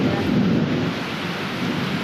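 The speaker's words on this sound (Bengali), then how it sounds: "এত পরিমাণে বৃষ্টি হচ্ছে, বৃষ্টি বৃষ্টি বৃষ্টি।" Heavy rain pouring steadily with a deep rumble of thunder rolling underneath, loud and close.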